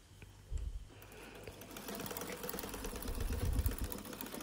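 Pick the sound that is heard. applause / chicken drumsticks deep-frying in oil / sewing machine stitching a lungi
sewing machine stitching a lungi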